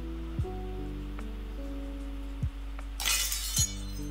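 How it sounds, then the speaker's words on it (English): Glass shatters sharply about two-thirds of the way through, a bright crashing burst over steady background music, with a tinkling tail afterward. "Oh, broke the glass."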